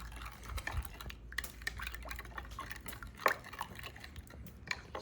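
Whole milk and sugar stirred together in a bowl as a gelato base, giving faint, close sloshing with scattered light clinks of a utensil against the bowl over a quiet room.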